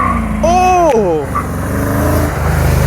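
A 1975 Chevrolet C10 pickup truck engine revs up with rising harmonic sweeps, loud and close, while people talk and cheer over it.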